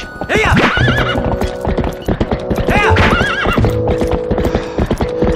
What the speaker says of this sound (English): Really, you spawned the horse all the way away from me.